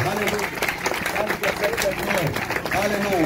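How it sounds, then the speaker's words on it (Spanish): A church congregation claps steadily in dense, continuous applause during worship, with voices singing and shouting over the clapping throughout. "Un aplauso al Señor con vida fuerte."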